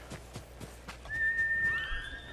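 A horse in the video game Ghost of Tsushima gives a clear, high whinny after a few soft hoof-like thuds, heard close and alone.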